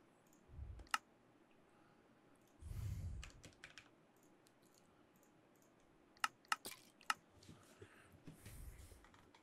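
Sparse, faint computer keyboard clicks in short scattered bursts, with a few soft thumps and low background hum between them.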